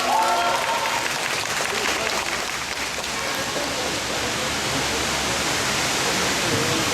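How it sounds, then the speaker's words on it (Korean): A crowd applauds a former Pohang mayor taking the stage at a press conference to announce his general-election run, held outdoors in foul weather; the clapping is loud, dense and continuous, a rain-like wash with voices faint beneath. "큰 박수 부탁드리겠습니다."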